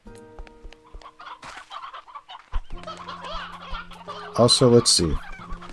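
A stony hen in the video game Slime Rancher 2 clucks in loud, close, repeated bursts late on, among game sounds and a low hum, after a brief bit of talk.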